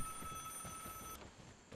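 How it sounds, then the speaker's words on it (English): A telephone rings in the survival shooter VIGOR, a steady electronic bell tone holding through the first part and then cutting off, set against low in-game rumble and ambient noise. "Oh, the phone's ringing."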